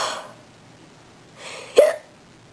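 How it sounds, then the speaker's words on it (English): A person's hiccups: a breathy intake, then a sharp, close hiccup with a short voiced yelp after a pause, in an otherwise quiet room. "these freaking hiccups are bothering me"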